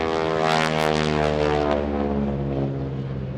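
A propeller aerobatic airplane performs at the 2016 NAS Oceana airshow, its loud droning engine roaring steadily overhead and sliding lower in pitch as it diving and pulling through a maneuver.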